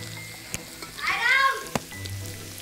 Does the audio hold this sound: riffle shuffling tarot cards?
no